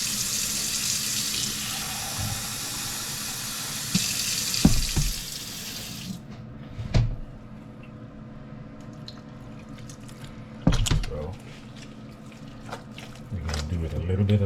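A kitchen tap runs water into a sink for mixing pholourie dough, a steady rushing stream for about six seconds before shutting off, followed by scattered drips and light clatter.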